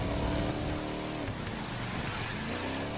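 Mustang muscle car engine roaring loud and steady through a Brooklyn street race in the video game The Crew 2, a continuous throaty drone with shifting pitch as it speeds along.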